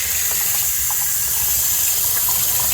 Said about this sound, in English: we got water here.